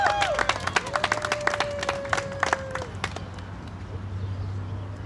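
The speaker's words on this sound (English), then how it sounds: "let's give Mark a big round of applause" Scattered clapping from a gathered crowd at a Supercharger ribbon-cutting ceremony in Waldorf, Maryland, with sharp claps over the first three seconds alongside a steady tone, then thinning into a low background hum.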